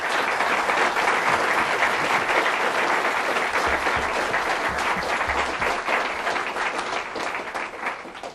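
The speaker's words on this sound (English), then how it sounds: "I'd like you all to give them a round of applause" Audience at a panel discussion on Kenya's post-election situation applauding the panelists, a dense sustained round of clapping from a sizable crowd that tapers slightly at the end.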